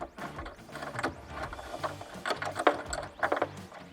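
A 12mm wrench ratchets a bolt tight while a clam-shell saddlebag kit is assembled for a Harley Softail, giving a series of quick, evenly spaced clicks in short bursts, close and fairly quiet.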